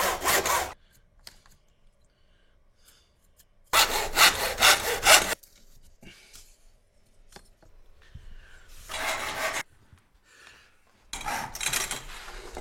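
A hand saw cuts through a wooden skirting board in four separate bursts of rapid rasping strokes, close and distinct, with quiet pauses between them.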